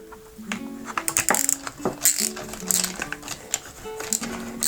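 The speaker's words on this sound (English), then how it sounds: "just a little nut driver here, and we'll remove" A small nut driver turning out screws from a snowshoe binding, with a run of light metallic clicks, ticks and rattles at uneven intervals, close and fairly loud, no talking.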